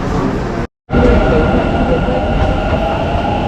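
A metro train at Majestic station in Bangalore rumbles loudly and steadily on its rails, close by, broken by a brief drop to silence before the heavy roar resumes.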